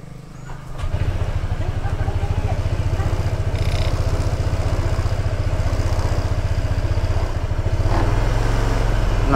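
A Honda ADV 160 scooter engine starts and settles into a steady, loud, close idle with a mechanical clatter, and the revs rise slightly near the end.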